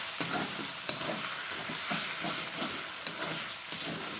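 Chicken frying in a pan with onion, ginger, garlic and green chilli paste, making a steady close sizzle with repeated stirring scrapes and small clicks.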